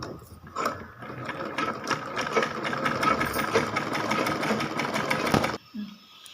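Sewing machine stitching baby shorts, a close, steady rapid mechanical clatter running for several seconds before stopping abruptly.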